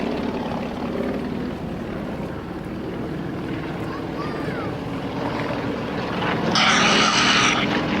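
Yak-50 aerobatic propeller aircraft flying in formation at an air display produce a steady, broad engine drone that swells slightly louder toward the end, with no clear voices heard over it.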